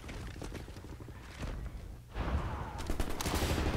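Suppressing gunfire in the video game Wolfenstein: The New Order rattles as rapid bursts of machine-gun shots, briefly dipping before a louder, denser volley takes over.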